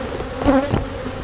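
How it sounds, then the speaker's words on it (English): Honey bees buzz inside an open hive during an inspection at a new bee yard, a close, steady insect drone with a brief louder swell near the middle. "There are quite a few bees in here."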